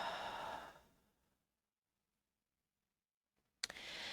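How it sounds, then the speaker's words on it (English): Deep breathing during a standing yoga pose: a soft exhale trails off into near silence, then a sharp fresh breath begins at the end, close and quiet, with no speech. "Couple deep breaths."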